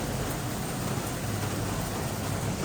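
Heavy rain pours down steadily during a downpour in Surat, a dense, unbroken hiss that fills the whole clip with no voices.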